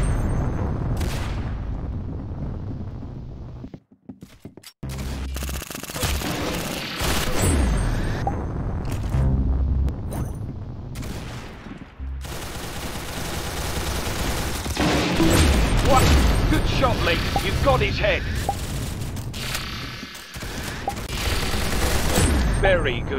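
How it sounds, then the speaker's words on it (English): Gunfire in the Roblox game Arsenal comes as dense, continuous bursts of shots and booming blasts. The barrage is loud and close, with a brief lull near the start, and it mixes with other game sounds throughout. "Very good shooting."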